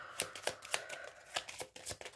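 Tarot cards are shuffled and laid out by hand in a series of soft, crisp flicks and riffles, about eight quick strokes at an uneven rhythm, close and fairly quiet with faint room noise between them.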